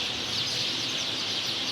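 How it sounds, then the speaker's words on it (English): A big flock of small birds in a tree beside the Dead Sea makes a dense, constant wash of high chirping, steady and close, with no voices heard. "hundreds, thousands of little birds"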